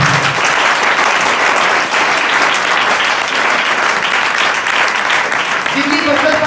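Loud, sustained applause from a church congregation during a Hindi-language sermon, steady clapping filling the room for several seconds with no clear voices on top.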